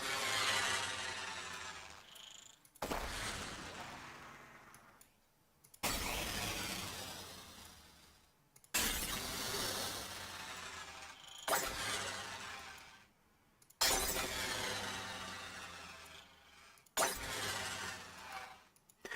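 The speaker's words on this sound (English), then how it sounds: "last but not least, a little bit of a ring mod" Ring modulator effect on a sound source, heard as a series of harsh, metallic, clangorous bursts with sharp attacks and abrupt cuts, repeating roughly every three seconds and sounding close and loud with no voices.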